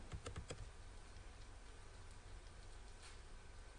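Typing on a computer keyboard, a quick burst of clear key clicks at the start followed by faint scattered taps, quiet and close.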